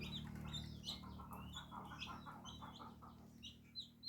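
A hen clucks softly among her chicks, with repeated high chirps and peeps over a low, steady hum. The sound is faint, close and without talk.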